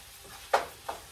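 Hamburger meat frying in a pan gets stirred, giving two short, soft scraping sizzles about a third of a second apart over a quiet background.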